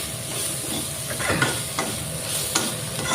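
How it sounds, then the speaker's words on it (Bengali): Dry spices for a hot bharta sizzle in a pan while being stirred, a steady close frying hiss with scraping strokes recurring every second or so, and no voices. "ভাজা হয়ে গেল প্রায়।"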